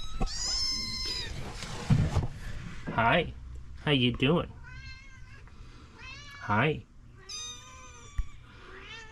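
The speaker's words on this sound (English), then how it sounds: "Meow meow. Meow. Yes. Oh, look at the kitty." A cat meows and caterwauls several times in drawn-out, rising calls, close and loud, while a person speaks briefly between the cries.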